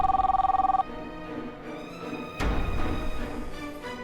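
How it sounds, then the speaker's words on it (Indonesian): A phone's ringback tone pulses rapidly in a short burst as a call is placed, then gives way to indoor background noise and a louder rustle. "Kamu telepon Aldi dulu"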